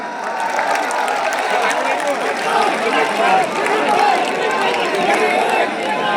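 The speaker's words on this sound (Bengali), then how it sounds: "সবাই জোরে করতালি দেন।" A large crowd at a political election rally in Moulvibazar, applauding and cheering in a loud, continuous roar of clapping and voices.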